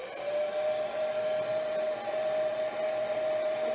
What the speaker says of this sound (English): What's nice about a heat gun or a blow dryer?